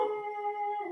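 Dogs howl in a brief, sustained, steady-pitched tone lasting about a second, close and fairly loud, with no talk over it.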